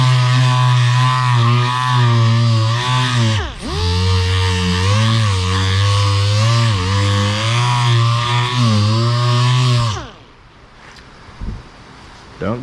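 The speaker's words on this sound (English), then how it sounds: "All right, let's sand that one more time." Power sander working over faded car clear coat with 3000 grit, a loud close whine that dips and recovers around four seconds, then cuts off near ten seconds leaving faint handling noises.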